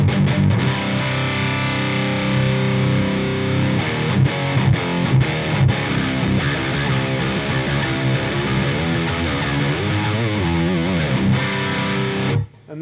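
A high-gain guitar amp channel played direct through a Synergy SYN-20 IR loader, dense distorted chords and riffs ringing loud and steady for about twelve seconds before cutting off.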